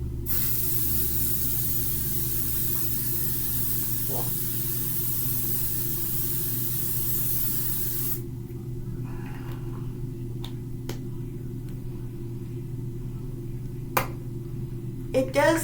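Makeup setting spray misted in one long continuous hiss of about eight seconds, close and loud, then quiet with a few small clicks and taps afterward.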